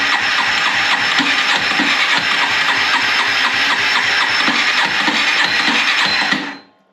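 A Yamaha quad engine cranks and catches, then runs with a rapid, rattling mechanical chug up close before cutting off abruptly.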